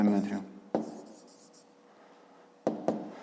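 A pen scratches on paper during a maths exercise, with short bursts of writing strokes near the start and a couple of quick marks near the end, while a voice talks over parts of it.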